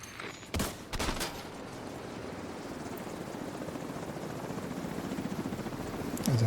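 A helicopter in a shooter video game gives a steady chopping rotor drone that builds slightly over several seconds, with a few sharp gunshot cracks early on and near the end.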